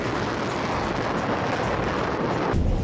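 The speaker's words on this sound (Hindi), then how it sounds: "1000 किलो का वॉरहेड और जमीन पर सब कुछ भस्म कर देने वाला धमाका।" A Sejjil missile's 1000-kilogram warhead blasts on the ground in the Iran-Israel war, a loud, sustained roaring rumble that swells into a deeper, heavier boom near the end.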